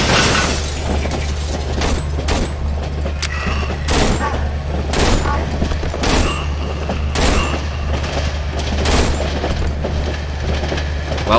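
Bursts of gunfire from a three-round burst weapon in the horror video game Cry of Fear, with sharp repeated shots spaced a second or so apart over a steady low rumble, loud and close.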